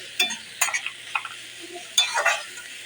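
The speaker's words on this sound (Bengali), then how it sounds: "লবণটাকে দিয়ে আমি একটু নেড়ে চেড়ে দেব। লবণটাকে ভালো করে মিশিয়ে দেব সবজির সাথে।" A spoon stirs salt through vegetables in a pan, giving a few sparse scraping strokes and faint clinks in short bursts with quiet gaps between.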